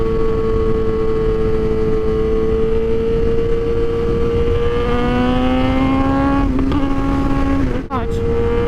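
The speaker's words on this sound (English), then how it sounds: "I'm gonna downshift" A motorcycle engine drones steadily at speed, then its pitch climbs and jumps with quick blips near the end as the rider downshifts, loud and continuous throughout.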